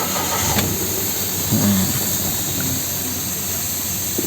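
A 2018 Mitsubishi Attrage 1.2 GLX automatic's engine runs close by at a steady idle, a continuous loud rumble and hum throughout.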